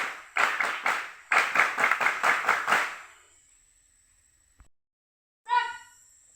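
A group of scouts at a Pramuka scout camp (PERSAMI) performs the Pramuka clap outdoors: three sharp claps, a brief pause, then a quick run of about seven rhythmic claps, followed by a thin whistle-like tone and a short faint beep.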